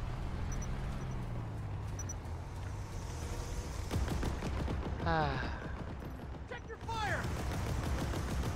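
A loud explosion in a tank-combat video game as a vehicle drives into a constructible, a broad rumbling blast amid continuous gunfire-like crackle and shifting tonal effects, with a voice-like sound partway through.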